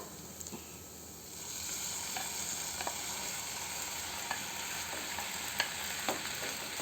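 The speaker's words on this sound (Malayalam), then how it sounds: "ഇനി നമുക്കതിലേക്ക് പാസ്ത ഇട്ട് കൊടുക്കാം." Pasta being stir-fried in a pan with egg and masala, a steady close sizzle running throughout with scattered light scrapes and clinks as it is stirred.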